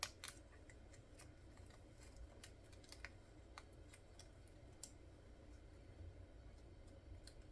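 Quiet, intermittent snips of scissors cutting paper, sparse crisp clicks spread across a low background hum, no voices.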